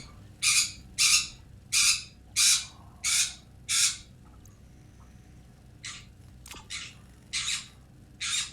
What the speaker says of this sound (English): Yeah, that's my birds in the background.